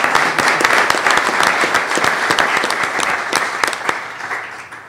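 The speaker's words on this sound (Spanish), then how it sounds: "Un aplauso, por favor, para Gildardo Contreras Palacios." Applause from an audience at a genealogy panel on molecular genealogy, dense steady clapping filling the room for about five seconds with no voices over it.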